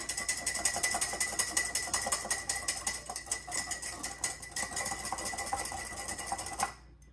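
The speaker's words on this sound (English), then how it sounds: "We're going to go ahead and just mix this up with our whisk." A whisk beating Greek salad dressing in a bowl, a rapid rattling clatter that runs steadily and then stops abruptly near the end, no talk.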